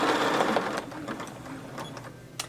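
A Bernina sewing machine with a ruler attachment and stitch regulator stitches at close range with a fast, even mechanical whirr that gradually softens, ending in a couple of faint clicks.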